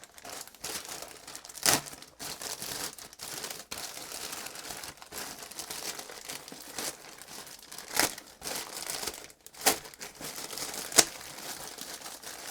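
Plastic bags crinkled and rustled while a parcel of radio parts is unpacked, a close, continuous crackling with sharper crunches and tearing bursts scattered throughout, no voice during it.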